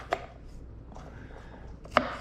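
A knife cuts green peppers into big fat slices on a cutting board, giving two crisp, close chops about two seconds apart with quiet handling between them.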